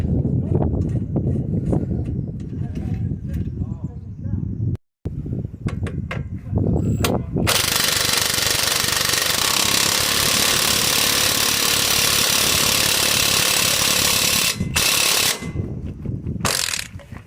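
A power tool tightens the bolt on a van's ball joint: a few short clicks and knocks, then a loud sustained ratcheting buzz running for several seconds with brief pauses and bursts near the end.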